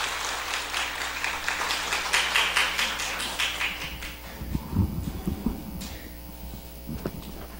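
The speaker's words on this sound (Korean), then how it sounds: "우리 집사님 나오실 때 큰 박수로 환영합니다" A church congregation at a Sunday morning service claps to welcome a deacon, a dense spread of applause that thins out after a few seconds into scattered handling noises over a low hum.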